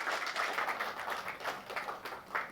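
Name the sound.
audience applause welcoming speaker on stage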